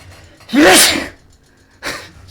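A loud, close sneeze with a rising vocal catch, followed a moment later by a softer sharp exhale.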